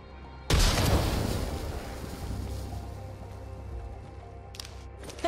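A frag grenade goes off in the shooter game Apex Legends with a sudden loud blast, followed by a long rumbling decay that fades under faint game ambience.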